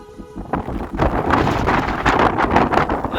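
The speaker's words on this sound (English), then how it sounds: "A little bit windier up here." Strong wind buffets the microphone near a summit in the Black Mountains of Wales, a loud, continuous gusting roar that rises within the first second and stays up throughout.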